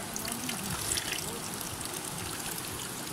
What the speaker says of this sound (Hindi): ये चश्मे का पानी